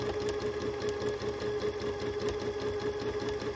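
Domestic sewing machine stitching free-motion quilting, a steady close rapid needle chatter with a constant hum, running continuously and alone.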